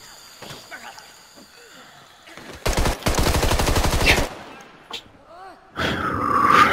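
Gunfire in the zombie video game Contagion: a loud, rapid burst of automatic shots with scattered single reports and a roaring rumble around it.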